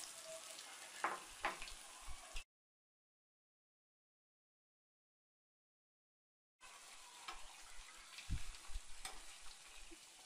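Cauliflower pieces dipped in batter sizzle and fry in hot oil for Gobi 65, a steady crackling hiss in two stretches separated by a long silent gap, with occasional stirring clatter.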